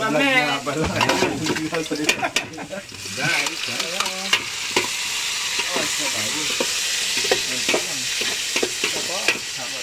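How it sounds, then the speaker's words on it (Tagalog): Garlic, onion, ginger and tomato sauté in a pan with a steady, close sizzle and stirring scrapes, while a voice talks briefly over the first few seconds. "Gigisayin yung bawang, sibuyas, luya at kamatis."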